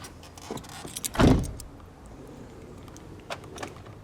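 A 2018 Volkswagen Up GTI as someone climbs out, with small clicks and rustles around a single heavy thud of the door, followed by a few faint taps, close up.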